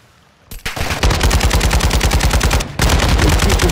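Rapid automatic gunfire in a shooter video game, loud and close, starting after a short quiet beat and running as a dense rattling burst, briefly pausing, then resuming just as fast.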